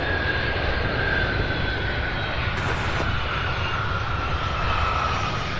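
Boeing 757 landing after a flight from Chicago produces a steady, loud engine roar and rushing whine that holds constant throughout, heard outdoors with no talking.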